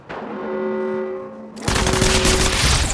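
Gunfire in the Apex Legends Mobile video game: a sustained tone gives way to a loud, dense burst of rapid automatic shots filling the second half.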